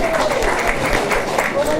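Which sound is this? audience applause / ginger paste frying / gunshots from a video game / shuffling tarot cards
audience applause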